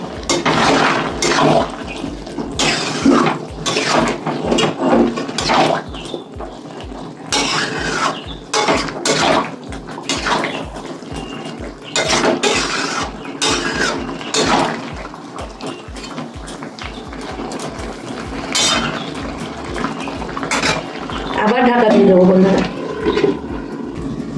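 A spoon scrapes and clatters in a pan as pea greens cooking in fish oil are stirred, a run of repeated metallic scrapes and sizzling under a voice talking throughout.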